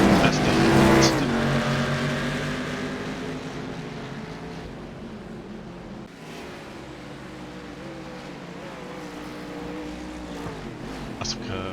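Kia Optima race cars lapping Monza in the iRacing sim, engines droning steadily with harmonic whine throughout, gear shifts and pitch changes, under commentators' talk.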